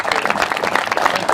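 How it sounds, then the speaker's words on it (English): Audience applause for Georgia Commissioner of Agriculture Gary Black at a turfgrass field day, a steady dense patter of clapping from a crowd, fairly loud and continuous throughout. "Let's give Commissioner Gary Black a round of applause."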